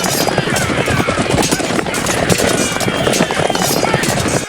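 Horses' hooves gallop across a battlefield, a dense, continuous pounding of many hooves with clattering and rumble, loud and close throughout with no pause.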